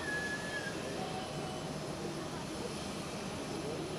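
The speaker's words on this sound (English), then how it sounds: "It's an A340." An Airbus A340 airliner arriving at Zurich Airport makes a steady, distant jet-engine rumble and roar, with a person talking faintly underneath.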